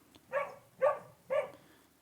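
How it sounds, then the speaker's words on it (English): Three evenly spaced dog barks, fairly close and clear, with a brief pause between each. "This dog barking sound"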